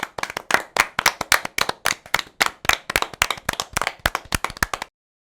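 Schoolchildren in a classroom clap for a classmate, sharp rhythmic group claps in a steady quick beat for about five seconds, then stop abruptly into silence.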